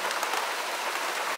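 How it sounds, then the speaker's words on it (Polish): Heavy rain shower pouring down at a Baltic beach at Krynica Morska, a dense, loud, steady hiss of drops that cuts off abruptly at the end. "Nagle, nie wiadomo skąd, przyszła ogromna chmura i zaczęło lać."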